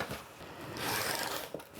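Fabric is cut on a cutting mat while making a face mask, giving a brief, soft slicing and rustling sound at close range with no one talking.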